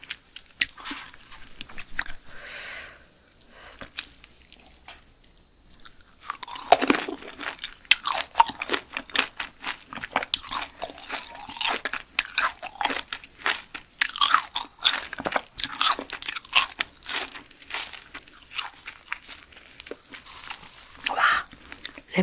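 Someone chews silkworm pupae up close in a Korean mukbang, with dense, wet crunching and biting that comes in rapid bursts, quieter at first and then continuous and loud.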